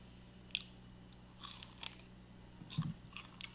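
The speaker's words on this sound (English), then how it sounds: "Chewing on green onions." Quiet, close crunching and chewing, a few crisp bites spaced out over a soft background hiss.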